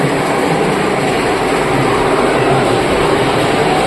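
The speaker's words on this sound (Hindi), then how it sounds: "प्यारी सी चमचमाती हुई भारतीय रेलवेज की वंदे भारत एक्सप्रेस।" An Indian Railways Vande Bharat Express rushes past or along with a loud, continuous rumbling roar of wheels and rail noise, steady throughout.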